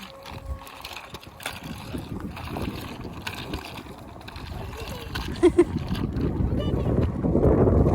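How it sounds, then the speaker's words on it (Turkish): Gusty wind rumbles and buffets the microphone in a park, growing stronger toward the end, with faint voices in the background. "Hadi hızlı gidelim bak burası çok esiyor"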